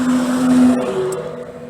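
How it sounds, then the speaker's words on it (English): A muscle car engine in downtown Dalton, Georgia, close by, with a steady rumbling drone that shifts pitch as it revs, and no voices. "Still muscle cars cruising downtown Dalton"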